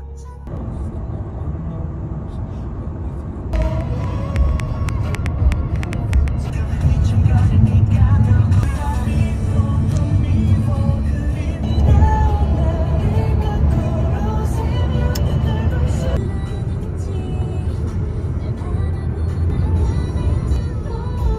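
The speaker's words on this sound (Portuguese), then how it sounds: "Vamos aqui no carro" A car driving along a road in Korea on the way to the beach: a constant broadband rumble of engine and road noise from inside the vehicle, steady and fairly loud with faint voices underneath.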